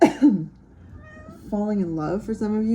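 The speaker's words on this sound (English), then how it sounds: "that was my cat." House cat meowing nearby, a couple of drawn-out wavering cries, with someone talking just before.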